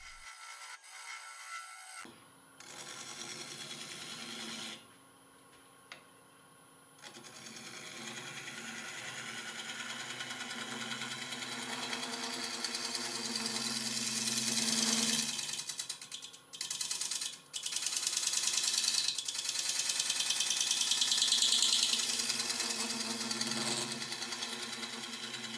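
A wood lathe spins a cherry burl bowl as a tool shapes the outside, giving a steady motor drone with rising scraping and cutting hiss, interrupted by brief pauses and close, fairly loud at its peak.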